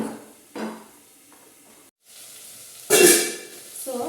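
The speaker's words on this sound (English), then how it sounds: "So I have to stir." A spoon stirring beef stew cooked with fresh milk and tomatoes in a pot, heard as soft scraping and a gentle simmering hiss, with one louder burst of sizzle near the end.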